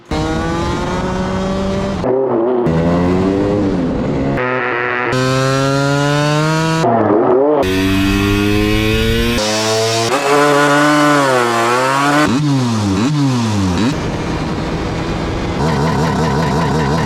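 An LML Vespa scooter engine being started and revved: a buzzing two-stroke-style drone that rises and falls in pitch through repeated throttle blips, with brief drops between, loud and close throughout.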